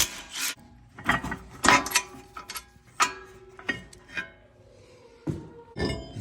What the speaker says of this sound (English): Rotor comes off